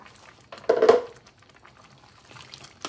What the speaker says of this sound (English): I'm just gonna put a little more water in the pot.